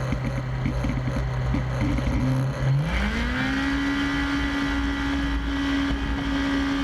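A bush plane engine near San Francisco runs up to full power for takeoff, a loud droning roar whose pitch rises steadily and then holds high and steady, with no talk.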